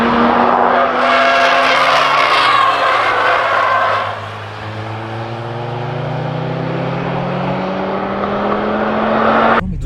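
A Mercedes A45 AMG driven hard around the Nürburgring, its engine loud and close, revving up and down through gear changes with long squealing tire noise as it corners.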